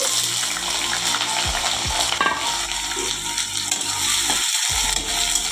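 Chopped onions sizzle loudly in hot oil in a pan, a constant close frying hiss broken by a few scraping stirs and a metallic clink of the spoon.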